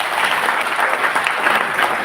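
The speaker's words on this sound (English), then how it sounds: "you can clap for your college" A college audience at an HR conclave applauds loudly for their institute, dense, continuous clapping filling the hall throughout.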